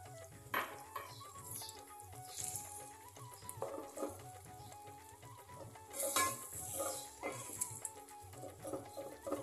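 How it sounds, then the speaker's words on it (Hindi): Minced meat (qeema) fries in a pan, being prepared for an Arabic paratha with eggs. Close, steady sizzling runs throughout, with repeated scraping and clinking of a utensil against the pan and brief louder bursts as the meat is stirred. "अब हम इसमें कीमा डालेंगे।"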